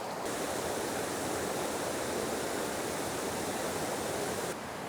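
A stream rushes at a winter water source in Glen Lui, Cairngorm National Park, Scotland, a loud, constant broadband roar of flowing water close by, with no other sounds.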